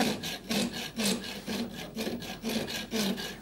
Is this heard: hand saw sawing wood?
yes